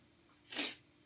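A single quick nasal snort or sniff from a runny nose, near and fairly loud, lasting under half a second with no voices around it.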